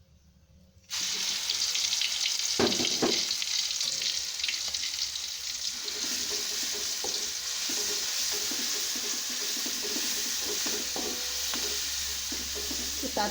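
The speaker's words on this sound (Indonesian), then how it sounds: "Kita tumis sampai harum." Spice paste for catfish rica-rica hits hot oil with a sudden loud sizzle that keeps frying steadily, with scattered stirring clatters and no voices.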